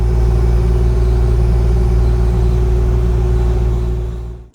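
A loud, close excavator engine rumbles steadily while moving a homemade outdoor maple syrup evaporator, then cuts out abruptly at the end.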